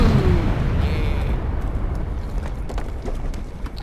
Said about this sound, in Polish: I tym wybuchem kończyłem tę serię.